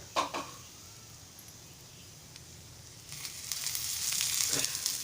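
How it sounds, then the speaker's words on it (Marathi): Onion sizzles in oil on a hot griddle, a steady soft hiss that swells louder in the second half, with a couple of faint early taps and no talking. "कांदा लालसर होईपर्यंत आपण तव्यावर भाजून घ्यायचं आहे"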